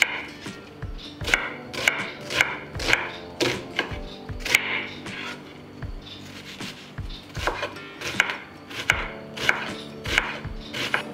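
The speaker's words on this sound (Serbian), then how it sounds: "Dok čekam da voda proključa, iseckat ću 2 glavice luka sitno." Two onions being finely chopped with a knife on a board, a steady run of sharp, close knife thuds in quick bursts with brief pauses between, no voices.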